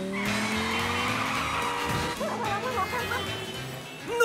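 A cartoon race car speeds along with a steady engine whine, then its tires skid and squeal loudly, followed by a short crash-like burst near the end.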